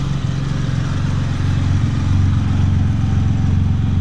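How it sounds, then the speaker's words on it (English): A Porsche Spyder sports car engine idles steadily with a deep, rumbling exhaust burble, loud and close, with no talking. "sitting here idling, she sure does sound good"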